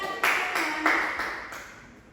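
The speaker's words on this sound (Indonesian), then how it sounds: "Oke, tepuk tangan." A few sharp claps from a teacher or class in a classroom, spaced out over about two seconds with faint room echo and no talking.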